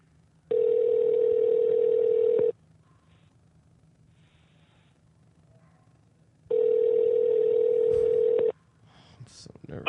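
Telephone ringback tone on a call: two long steady electronic rings about two seconds each, separated by a four-second gap, loud and close, with faint background noise in between.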